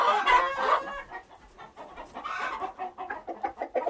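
Morning chickens in a coop make loud, busy clucking and squawking, with overlapping calls and a string of rapid, rhythmic clucks near the end, close and with no talk.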